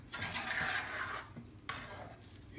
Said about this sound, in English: You got to keep stirring.